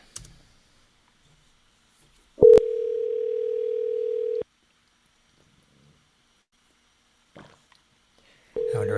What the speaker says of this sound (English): Let's give him a call back.